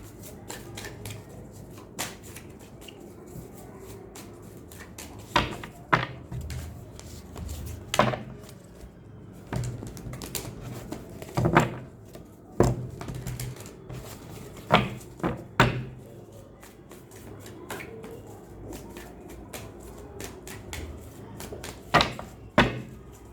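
Tarot cards are shuffled and handled at close range, producing bursts of riffling and sharp snapping slaps scattered irregularly against a quiet room background.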